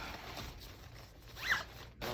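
Zipper being pulled closed on a tube housing wiring while replacing a cheap fan with a base fan; a single short, close raspy zip, fairly quiet, with no speech.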